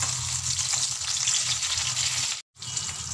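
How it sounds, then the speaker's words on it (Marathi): Green chillies, slit from the inside, sizzle in hot oil with a steady, dense crackle that cuts out for a moment near the end and then resumes. "हिरवी मिरची आणि ही मिरची फ्राय करून घ्यायची"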